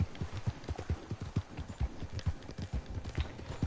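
Horse galloping in Red Dead Redemption 2, a steady run of quick low hoofbeats that stays close and moderately loud for the whole stretch, with no talk over it.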